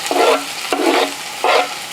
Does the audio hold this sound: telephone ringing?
no